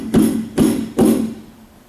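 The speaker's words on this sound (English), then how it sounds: "you can use a chisel" Three evenly spaced sharp knocks of a chisel against wood while working a guitar's dovetail neck joint during a neck reset, loud and close, with a brief decay after each strike.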